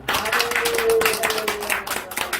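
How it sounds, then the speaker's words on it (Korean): Church congregation at a Korean worship service applauding, dense continuous clapping at close range throughout, with a sustained tone ringing faintly underneath. "오늘 우리 하나님께 영광의 박수 한번 드리겠습니다."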